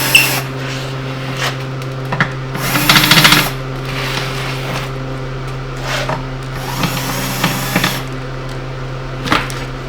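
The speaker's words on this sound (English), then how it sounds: "Thank God for battery drills." A cordless battery drill boring holes for 12mm bolts on a workshop project, heard as several loud whirring bursts with gaps between them, set against a steady low background hum.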